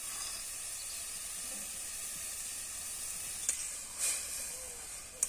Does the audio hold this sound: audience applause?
no